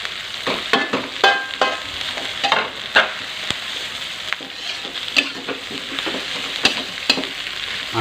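Vegetables for mie goreng tek tek with jengkol are stir-fried in a pan: a close hiss of frying broken by repeated clanks and scrapes of a utensil tossing the food, with no talk.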